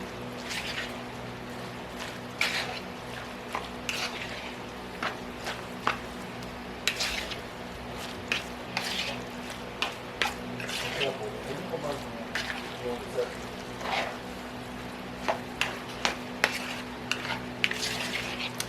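A spoon scrapes and clatters in a bowl as zucchini and kohlrabi fritter batter is stirred together with onions, producing irregular close taps and scrapes over a low steady hum, fairly quiet.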